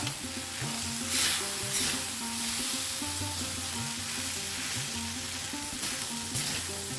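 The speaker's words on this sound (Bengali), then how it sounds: "সাবুটাকে কিছুক্ষণ আমরা নাড়াচাড়া করে ভেজে নেবো লো ফ্লেমে রাখবে" Sago pearls fry in oil over a low flame while being stirred for sabu khichuri, giving a steady, close sizzle with soft scraping and clinks of the spoon running throughout.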